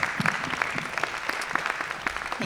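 Sparse, fairly faint clapping from a small audience at a community talk on race and local history in San Antonio, with individual claps audible in an uneven rhythm.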